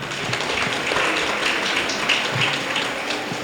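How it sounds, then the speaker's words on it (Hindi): A room full of people at a Ramadan gift-distribution gathering claps steadily and densely, a continuous patter of many hands at even loudness throughout, with no one speaking over it. "तालियां मारना अपन।"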